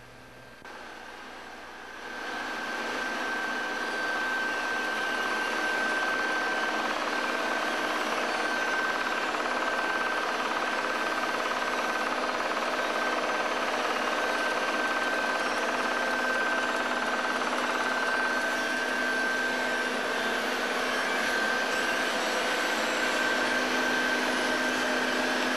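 A GOMACO PS-4000 concrete placer runs with its 20-inch hydraulic, reversible split auger turning, producing a constant heavy mechanical drone with a steady hum throughout.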